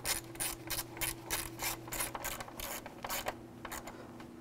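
Hand ratchet tightening down the oil pump cover on a 2000-06 Chevy Tahoe, a quick run of close, crisp clicking strokes in bursts that slow and stop near the end.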